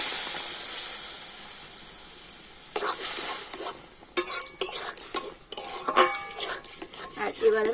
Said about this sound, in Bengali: আর এবার আমি জলের সাথে আলুটা কিন্তু খুব ভালো করে মিশিয়ে নেব